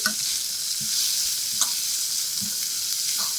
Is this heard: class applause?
no